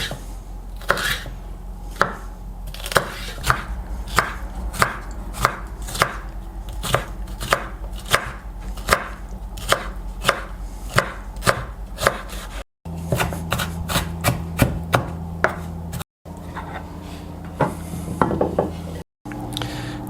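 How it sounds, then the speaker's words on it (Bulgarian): A knife chops a pepper on a cutting board in a steady, close run of sharp knocks, over twenty strokes at an even pace, then quicker bursts with brief pauses, no talking. "Нарязвам чушката."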